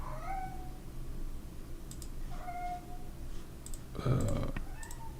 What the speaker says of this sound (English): You might hear the cats